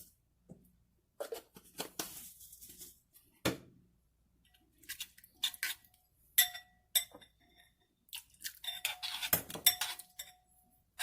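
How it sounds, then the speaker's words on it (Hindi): A spoon stirs garlic bread topping with a little oregano in a bowl, making scattered clinks and scrapes against the sides in short irregular bursts with quiet pauses between them. "इसको हम अच्छे से जो है वो मिक्स कर लेंगे।"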